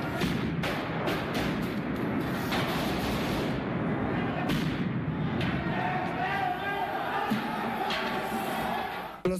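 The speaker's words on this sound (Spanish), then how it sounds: "en medio de una guerra de petardos" Firecrackers burst repeatedly during a university student election, sharp loud cracks and bangs scattered irregularly over a noisy crowd of shouting voices, with people talking throughout.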